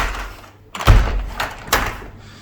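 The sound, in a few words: door being opened all the way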